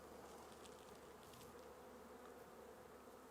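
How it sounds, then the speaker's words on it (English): Bees buzz steadily in a continuous, faint drone after being shaken into a hive, with no talk over them. "I should be able to dump these bees in."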